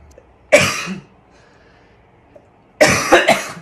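A short muffled cough into an elbow, a pause, then a cluster of several quick coughs, close and dampened as if stifled.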